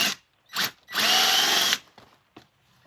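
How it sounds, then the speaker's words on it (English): A power drill whirs in short bursts: two quick pulses, then a longer sustained run of about a second, followed by faint clicks. "I'll drill this on 180 degrees out"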